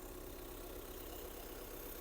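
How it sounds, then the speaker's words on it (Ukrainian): A 2013 Skoda Superb 2.0 diesel engine idles steadily with an even, low mechanical chug, faint and continuous with no voices. "Як бачимо, двигун працює рівнесенько."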